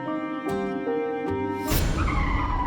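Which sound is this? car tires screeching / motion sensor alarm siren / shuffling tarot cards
car tires screeching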